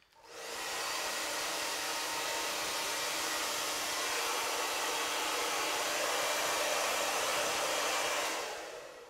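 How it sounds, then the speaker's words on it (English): Hair dryer blowing steadily at close range while hair is combed, a continuous loud rushing whoosh that starts up and cuts off cleanly, with no talking. "So now when I'm combing it and blow drying"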